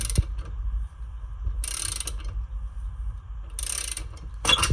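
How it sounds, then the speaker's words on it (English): A 1/2-inch ratchet tightening a rear suspension bushing on a 2007–2010 Chrysler Sebring V6 2.7L, giving repeated mechanical clicking strokes in a few separate bursts over steady low background noise, close by, with no talking. "1/2-inch ratchet on here. I'm gonna just keep on tightening it."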